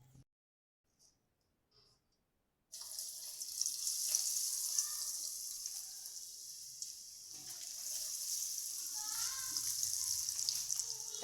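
Potato chips dropped into hot ghee, a quiet opening followed by a sudden steady frying hiss that continues with small bubbling crackles to the end.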